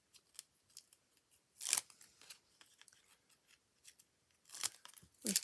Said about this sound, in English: I've got a piece of black card cut just to mat and layer